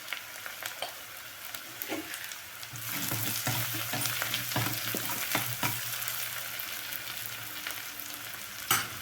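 Onions frying in a pan for a Tamil cluster bean and lentil usili dish, a steady close sizzle with scattered clicks of stirring that grows denser and louder after a few seconds, with no talking.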